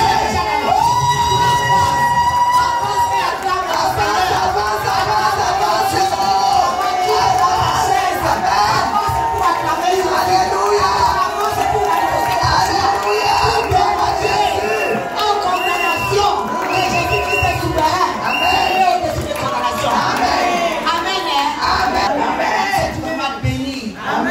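A church congregation cheering and acclaiming the Lord, with loud continuous crowd shouting and singing-like voices sustained throughout, dense and near, blending with music.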